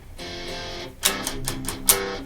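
Distorted electric guitar chords through an amp with a drive pedal, gritty and crunchy, a sustained chord followed by several sharper strummed hits ringing out.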